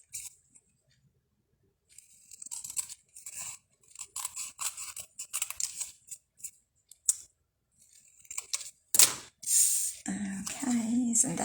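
Scissors trimming card paper at a card-making table, with a series of crisp, close snips and paper rustles, then louder handling near the end.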